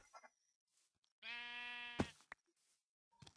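A Minecraft sheep bleats once, a clear wavering cry lasting under a second, followed by a few soft clicks and game noises in an otherwise quiet scene.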